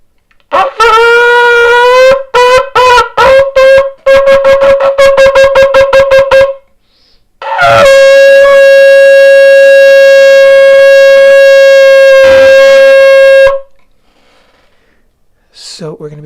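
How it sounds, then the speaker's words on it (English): A ram's-horn shofar blown in a series of short blasts, then a rapid run of broken notes and one long sustained call, loud and close with strong harmonic overtones, ending in near silence. "let's sound the shofar"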